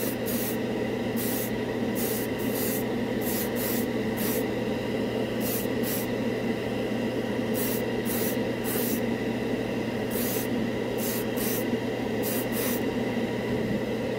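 Alclad glossy black lacquer sprayed through an airbrush onto a spoon, a steady hiss of air running throughout with repeated short bursts of brighter spray as the trigger is pulled and released.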